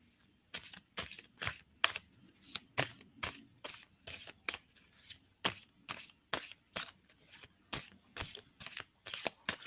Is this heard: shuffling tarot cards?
yes